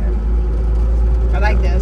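Engine of a 1962 Jaguar XKE sports car rumbles steadily and loud from start to finish, a deep low drone, with people talking over it near the end.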